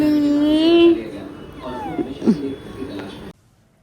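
A young child imitates a cat's meow, with drawn-out rising and falling vocal tones at close range, followed by quieter domestic murmurs before the sound cuts to silence.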